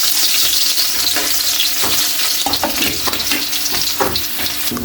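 Garlic sizzling steadily in hot oil in a pan, a loud, continuous fry with scattered crackles and occasional stirring scrapes, no voices.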